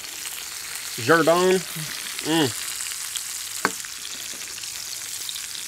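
Fresh garden herbs dropped into hot butter beside a tomahawk steak give a steady background sizzle, with someone speaking briefly over it and a short sharp clink near the end.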